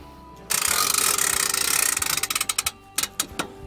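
Winch strap on an MDC Cruizer Highside camper trailer ratchets loudly, a dense run of rapid metallic clicks that slows into separate distinct clacks toward the end, close and alone.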